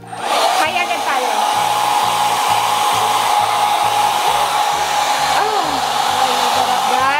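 A JMW professional hair dryer blows steadily and loudly up close, a continuous roar of airflow with a faint pulsing hum, while a voice gives one brief exclamation.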